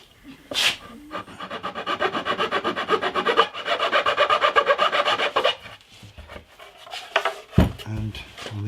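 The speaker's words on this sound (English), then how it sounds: "I need a bit of filing on that end as well." Wood is filed on the end of a hollow-body electric jazz bass, giving steady, rhythmic back-and-forth rasping strokes up close for several seconds, with scattered knocks and handling noises before and after.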